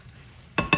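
Food stirred in an already hot skillet while making a three-ingredient dip, two sharp bursts of sizzling and scraping near the end after near-quiet, close and fairly loud.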